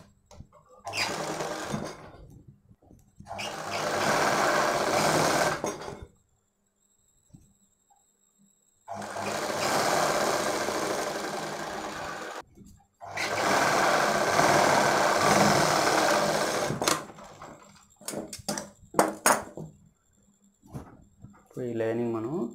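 Sewing machine stitching the cloth of a boat-neck baby frock in several bursts of steady whirring, close by, broken by pauses where someone talks.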